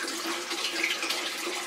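Water drains from a 125 gallon cichlid aquarium, a constant rushing, gurgling flow heard up close and alone.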